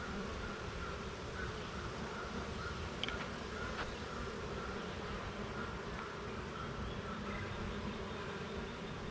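Honey bees buzz in a dense, steady hum at a hive being split into nucs, the drone continuous and fairly close with a few brief louder passes of individual bees, no voices.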